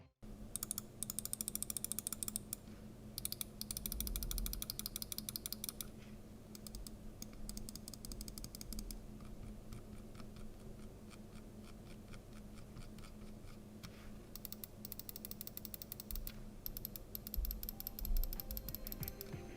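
A Finalmouse Ultralight 2 gaming mouse has its left and right buttons pressed over and over, giving crisp, close, rapid clicks in dense runs with brief pauses and no talking.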